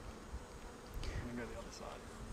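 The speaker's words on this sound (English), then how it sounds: "We've got drones here, these big teddy bear looking bees, quite a lot of drones actually." Honey bees hum close by while a brood frame is lifted during a hive inspection, drones among them, a steady low buzz with a brief louder swell midway.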